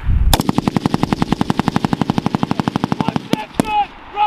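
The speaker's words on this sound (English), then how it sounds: "Rapid fire! Keep laying down fire!" Sustained rapid automatic gunfire from British Army officer cadets during a simulated assault at Grafenwoehr, a loud, steady stream of about thirty close shots over three seconds, then a couple of separate bursts and shouted voices.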